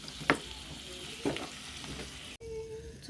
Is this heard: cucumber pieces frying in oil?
yes